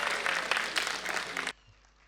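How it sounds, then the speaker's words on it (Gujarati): The audience at a school annual function at Podar School, Upleta, in 2025 claps loudly in dense, continuous applause for about a second and a half, then the sound cuts off abruptly to near silence. "એમની જોરદાર મહેનત માટે જોરદાર તાળીઓ થઈ જાય એમના માટે"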